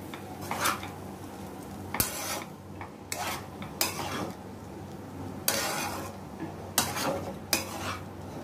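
A spoon stirs poha with fresh coriander leaves in a pan. Soft scraping and clinking against the pan repeat at irregular intervals, fairly quiet and close, over a faint background hiss.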